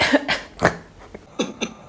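Several short, dry fake coughs in a row, spaced unevenly with brief pauses between them, close and fairly loud with no talking.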